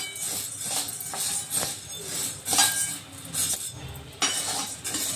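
A utensil scrapes and clinks against a pan while half a kilo of sabudana (sago pearls) dry-roasts, with irregular metallic taps and scraping strokes repeating steadily at close range.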